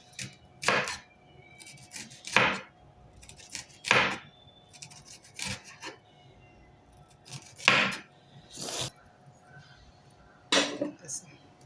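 Knife chopping onion into thin lengthwise slices on a board for crispy fried onions, a series of sharp, close cuts in irregular bursts with quiet pauses between them.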